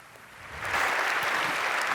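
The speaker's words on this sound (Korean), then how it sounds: "박수 부탁드립니다" An audience at a church fireside gathering claps after a talk, the applause building from soft to a steady, full round of clapping within two seconds.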